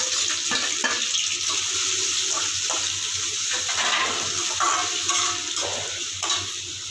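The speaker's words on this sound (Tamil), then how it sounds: "எண்ணெய் காஞ்சிருச்சு, வெங்காயம் போட்டுக்கலாம்" Onions sizzle steadily in hot oil for a masala egg thokku, a continuous crackling fry with intermittent stirring scrapes close by and no voices.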